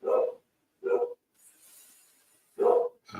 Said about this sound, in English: And my dog is barking, which means the Amazon or UPS person is here.